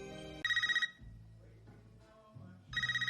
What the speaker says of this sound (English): Tara Carpenter is home alone when her phone rings